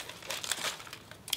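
Glossy black and silver star-patterned wrapping paper crinkles and crumples close up as a gift is unwrapped, with a few sharper rustling bursts and a quick tear-like crackle near the end.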